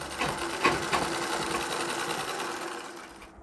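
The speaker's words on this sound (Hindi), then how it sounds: "इस तरह सिलाई लगा लेनी चाहिए।" A sewing machine runs steadily, stitching the border of a Marathi-style saree, a continuous close mechanical whir with a few light clicks, fading out at the end with no talk.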